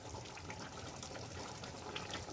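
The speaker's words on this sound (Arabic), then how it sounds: "هحط شوية شوربة عليهم من شوربة الفراخ طبعا" Chicken broth poured over simmering potatoes in a cooking pot, a steady close liquid splashing and gushing that runs evenly for a couple of seconds at moderate loudness, with no talking.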